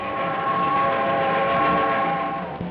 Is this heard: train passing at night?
yes